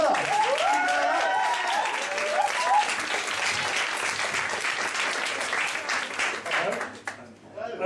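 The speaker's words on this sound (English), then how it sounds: "Now let's give a big round of applause to Jake Miller." An audience at a grad bar stand-up night applauds comedian Jake Miller, giving a full, sustained burst of clapping and crowd noise with a few voices mixed in. The applause fades out right at the end.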